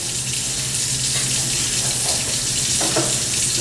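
Cold water runs from a kitchen tap onto freshly cooked pasta shells in a sink, a loud, steady hiss and splash that continues throughout, with a few brief clinks.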